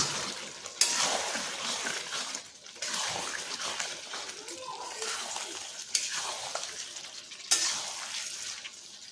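Chicken coated in chili powder frying and being stirred in a pan, a steady close sizzle broken by repeated scraping stirs and occasional sharp utensil knocks against the pan, with no talking.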